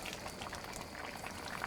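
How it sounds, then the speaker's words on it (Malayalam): A pot of white chickpea curry gravy, thickened, bubbles steadily at a rolling boil, the close, soft popping and gurgling continuing throughout without voices. "ഇതിപ്പോൾ നന്നായിട്ട് തിളച്ച് ഗ്രേവി കുറുകിയിട്ടുണ്ട്."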